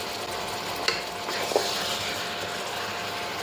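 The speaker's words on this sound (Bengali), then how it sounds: "এই খাড়া মশলা দিয়ে আমি প্রায় 10 মিনিট কষিয়ে নেব।" Whole spices and dried red chilies frying in a pan, a steady hot sizzle running throughout with a couple of sharp clicks of a spoon stirring against the pan, close and alone without talk.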